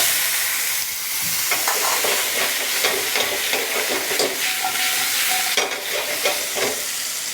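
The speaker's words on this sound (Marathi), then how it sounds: "आता त्याला आपल्याला एक सोनेरी गोल्डन क्रस्ट येईपर्यंत फ्राय करायचं आहे." Thick-cut pieces of peeled potato fry over high heat in a pan with a constant sizzle and hiss, broken by repeated scraping stirs, close and moderately loud with no talk.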